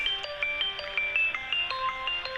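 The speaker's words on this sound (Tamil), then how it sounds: "ஃபோன் அவங்க தான் கைஸ் ஃபோன் பண்ணுறாங்க." A mobile phone ringtone plays for an incoming call, a bright repeating electronic melody of short clear notes in quick rhythm, fairly loud and alone.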